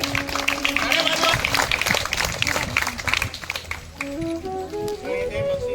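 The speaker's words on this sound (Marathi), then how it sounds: "टाळ्या वाजवा." Audience clapping at a school prize ceremony, a dense burst of hand claps filling the room, tapering off partway through as background music and a voice come in.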